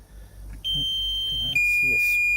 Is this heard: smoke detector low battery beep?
yes